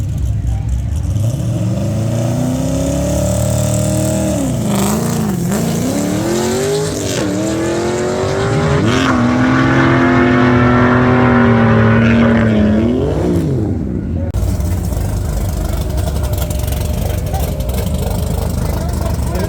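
Turbocharged LS V8 in a swapped Mazda Miata revs loudly and repeatedly, pitch rising and falling through several pulls with tire squeal, a sustained roar close by; voices are faintly present under the engine.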